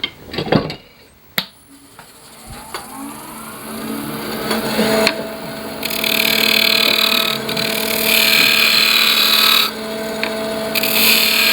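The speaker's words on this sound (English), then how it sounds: "This little 1640 is a nice little lathe." A Jet 1640 wood lathe turns a wooden pepper mill as it is trued up, giving a steady whirring drone with scraping cuts that swell and fade through the run. A few sharp knocks sound near the start, and no one talks.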